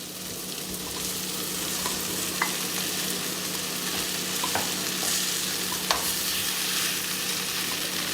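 Idli pieces and vegetables sizzle steadily in a frying pan, with occasional soft scrapes and clicks as they are gently stirred, fairly quiet and close.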